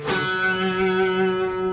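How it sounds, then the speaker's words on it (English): A guitar plays systems one and two of a Bach passage, sustained plucked notes ringing together with a bright attack at the start, steady and close with no talking. "So systems 1 and systems 2 will sound like this."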